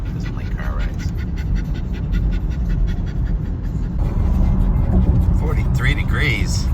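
A dog named T-Rex pants steadily inside a moving car on a wintry New England drive, close and rhythmic over constant road rumble, with a brief whimpering note near the end.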